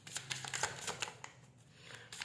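Tarot cards being shuffled and drawn by hand, a quick run of close, soft riffling flicks and slaps that thins out into a pause before a few more light card sounds.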